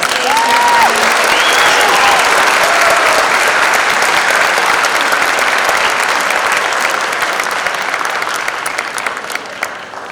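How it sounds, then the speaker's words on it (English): Loud, dense audience applause fills a winter band concert, steady clapping from a large crowd that holds for about ten seconds before easing slightly toward the end. "let's give them all a round of applause"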